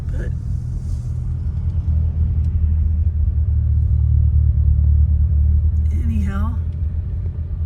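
Steady low engine and road rumble from inside a car creeping along in slow traffic on a road at Grand Teton, continuous and fairly loud, with a brief higher tonal sweep near the end.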